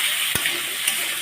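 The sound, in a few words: potato, pumpkin and carrot frying in a pan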